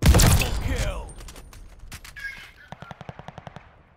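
Gunfire from the World War II shooter Call of Duty: Vanguard: a loud, close opening blast and rattle fade into scattered shots, then a crisp, evenly spaced burst of automatic fire near the end.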